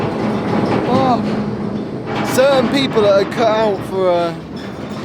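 A freight train rolls along in Mexico, its low rumble and rattling carriages running continuously beneath someone talking close by.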